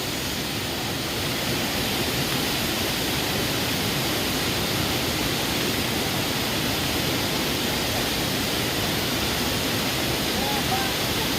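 A waterfall in the Konkan region, Savatsada falls, roars with a steady, dense rush of water falling from a great height, loud and constant throughout, with no pauses.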